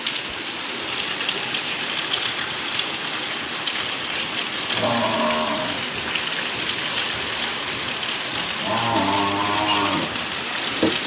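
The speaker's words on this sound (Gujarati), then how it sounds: "અમારો વરસાદ ચાલુ થઈ ગયો છે" Steady rain hiss fills a village scene throughout, with cattle mooing twice in the middle and near the end.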